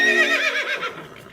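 A horse gives one loud, close whinny that rises and then trails off in a shaky, falling neigh, with no talking over it.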